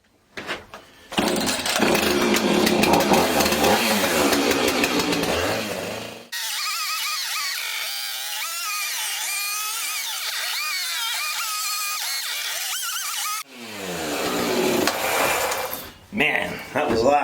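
A chainsaw roars close by while cutting a hole in a wooden chicken coop, loud and rough at first, then a steadier lighter drone, ending with a final burst of revving.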